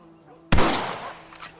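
A single loud rifle gunshot from the Red Dead Redemption video game cracks out sharply and rings into a decaying echo, with a faint low hum beneath it and no talk.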